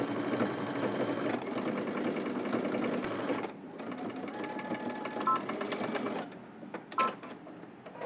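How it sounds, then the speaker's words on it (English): A sewing machine stitches a 5/8-inch seam around a garment cuff, running in a steady rapid mechanical whirr for several seconds, pausing briefly, then resuming in shorter bursts with small clicks near the end. "let's head over to the machine and we're going to stitch all the way around using 5/8 of an inch seam allowance"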